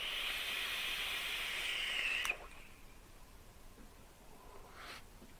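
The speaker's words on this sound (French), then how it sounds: "J'adore cette production de vapeur." A vape exhale of e-liquid vapour, a steady airy hiss lasting about two seconds that cuts off abruptly. A brief, fainter puff of breath follows a few seconds later, with no talk.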